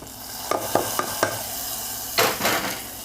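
Dried red chillies and chana dal tipped into hot oil for a South Indian tempering give a few sharp clicks and spatters, then a louder burst of sizzling near the end, with no talking.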